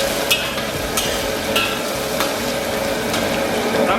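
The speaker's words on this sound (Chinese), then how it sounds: "油热以后啊，咱们把葱姜蒜片给它下里边" Scallion, ginger and garlic slices frying in hot oil for spicy braised pig trotters give a loud, steady close sizzle, broken by a few sharp crackles and pops.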